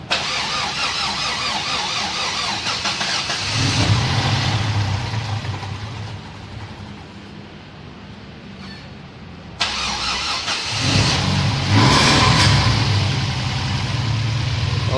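Toyota Vios Gen 3 (2014) with a 1NZ-FE engine fitted with a racing camshaft and stock exhaust, cranking and catching, then revving up, settling to a rough idle and revving again, loud and close.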